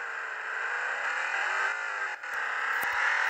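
Taxi engine revving steadily in the video game Taxi Sim 2020, a sustained whirring mid-pitched drone that holds loud and even for a few seconds with a brief dip, no talk.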